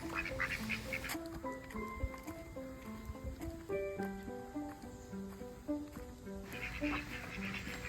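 Ducks quack in a busy backyard flock kept with chickens, rapid overlapping nasal calls close by and nearly continuous, with a few higher bird calls mixed in.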